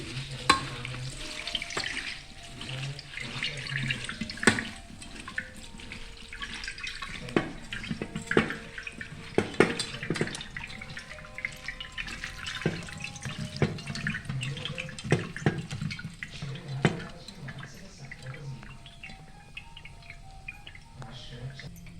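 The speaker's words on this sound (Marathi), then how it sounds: "इथं आपण पोहे धुवून घेतो" Poha (flattened rice) is rinsed under running water in a kitchen. Close, continuous splashing and sloshing go on throughout, broken by irregular clinks and taps.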